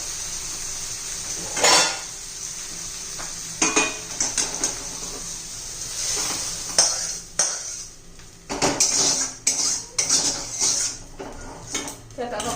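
Fried okra (bhindi) is scooped out of a pan over medium heat, with clattering utensil knocks and scrapes against metal, several sharp clinks in an uneven rhythm over a steady background hiss.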